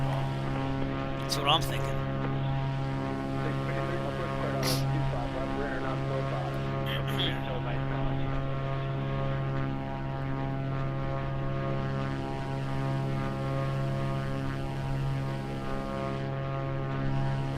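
Steady drone of a small propeller airplane in flight, a constant engine hum with harmonic tones filling the cabin, with brief speech from people on board over it.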